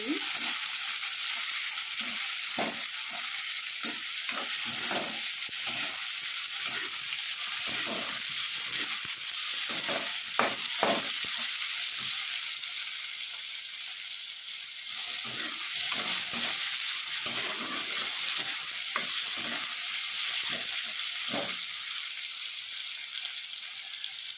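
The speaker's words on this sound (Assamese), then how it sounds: "বিলাহী অলপ ভাজি ল'ব লাগিব" Chopped tomatoes fry in hot oil in a pan, a constant close sizzle broken by repeated scraping stirs of a spoon, with no talking.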